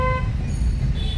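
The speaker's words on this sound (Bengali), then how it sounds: "হর্ন দাও" A car horn toots briefly near the start, ringing out over steady low road traffic rumble during a driving lesson in street traffic.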